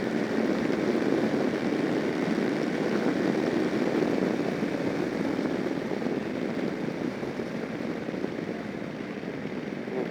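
A 2011 Kawasaki Versys motorcycle at full throttle: a steady, loud engine roar mixed with strong wind rush, held continuously throughout and heard from the rider's position with no talking.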